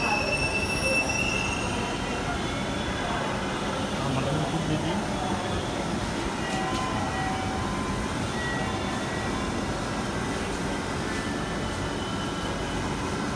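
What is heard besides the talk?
Dhaka metro rail train arriving and running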